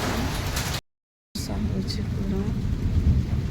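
Rain and hailstones fall outside, making a dense, steady hiss and patter broken by a brief total dropout, with a voice talking over the downpour.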